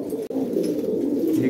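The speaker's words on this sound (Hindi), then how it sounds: "मेल कबूतर है, वाइट बार अच्छे कलर का है" A white bar male pigeon cooing in a steady, low murmur, close and continuous, with a brief break near the start.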